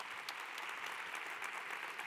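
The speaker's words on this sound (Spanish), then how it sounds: "Un aplauso que estamos de celebración." Steady audience applause at a celebration event, a dense patter of many hands clapping continuously for the whole moment without any voices on top.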